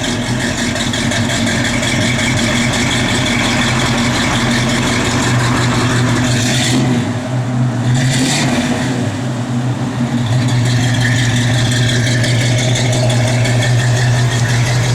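A 1969 Chevrolet C10 pickup idles close by in a steady, loud, slightly rattling rumble that holds for the whole stretch, with a brief dip partway through as the engine note shifts.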